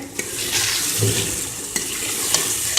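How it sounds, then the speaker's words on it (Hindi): Capsicum frying in a pan for a shimla mirch and aloo dish, a close, continuous sizzle with a few brief clicks of a stirring utensil, no talking. "अभी जस्ट हमें कैप्सिकम्स को फ्राई करना है, 2 से 3 मिनट तक भूनेंगे।"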